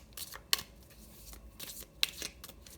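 Tarot cards being shuffled by hand, a dry papery riffle and flutter in several quick bursts, with two sharper snaps where the deck is squared, close and fairly quiet, no voices.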